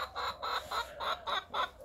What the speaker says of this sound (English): You're the noisiest chicken I've got.